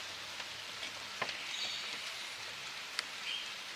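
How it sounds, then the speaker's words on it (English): Steady hiss of rain falling outdoors during an attempt to dry a freshly washed car, with scattered drop ticks and a couple of faint bird chirps, no talk. "now it's starting to rain"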